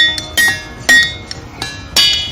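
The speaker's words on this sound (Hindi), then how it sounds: "जब इन पत्थरों पर हथौड़े से चोट की जाती है तो ये सुरीली आवाज निकालने लगते हैं।" Pennsylvania ringing rocks struck with a hammer give five or six sharp metallic clinks, each ringing briefly with a bell-like tone, loud and close with short pauses between strikes.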